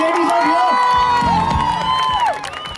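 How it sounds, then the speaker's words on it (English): A crowd of women at a Pinkathon charity run event in Chennai cheers and whoops with high, sustained shouts, clapping mixed in beneath the voices, fairly loud and lively throughout. "Give a round of applause to all the lovely ladies out here."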